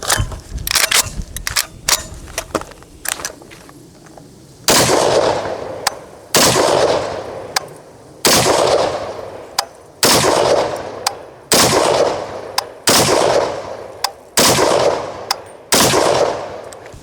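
Short-barrelled FAL rifle clone firing from a Bren magazine outdoors: loud, sharp gunshots with long echoing tails, at first a quick scatter of shots, then about seven evenly spaced heavy reports roughly two seconds apart.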